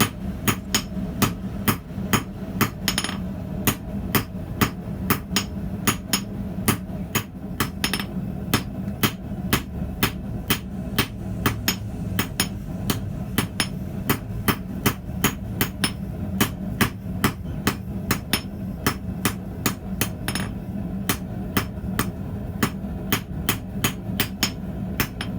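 Rhythmic, ringing hammer blows on wrought iron from a railroad spike being forged, struck in quick regular succession for a long stretch, with a low rumbling background underneath.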